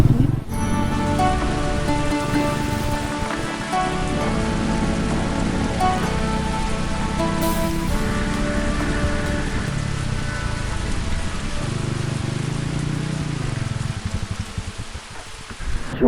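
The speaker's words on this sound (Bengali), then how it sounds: "এখনও বৃষ্টি পড়তেছে" Heavy rain pours down outdoors, a dense, loud, steady hiss of drops on surfaces that holds throughout with no voices and no clear breaks.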